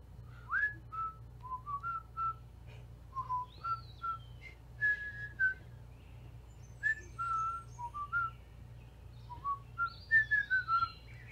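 Someone whistles a jaunty tune from the video game Deadly Premonition, a series of short, clear, close notes in a bouncing rhythm with small pauses between phrases, over a low steady hum.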